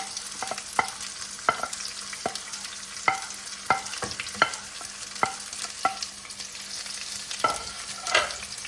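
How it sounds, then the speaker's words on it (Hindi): Sliced onions frying in a small measure of oil in a pan for a homestyle chicken shorba, with a steady close sizzle broken by repeated sharp scrapes and knocks of a stirring utensil; no voices. "इसमें मैं अब प्याज डालूंगी जो 2 काट लिए थे मैंने स्लाइस में।"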